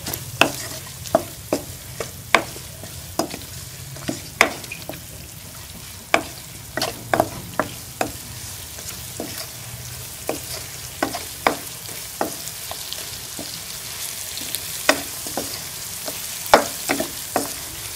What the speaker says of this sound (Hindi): अच्छी तरह से मसालों को चिकन के साथ मिक्स करके हम भूनेंगे